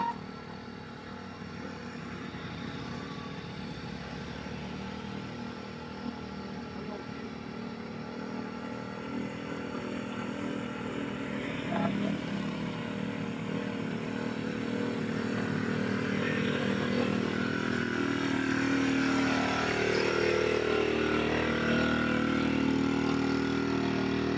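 A motorcycle engine drones continuously while climbing uphill with passengers in Magsaysay, Occidental Mindoro, growing louder and more strained over time, laboring at a steady pitch.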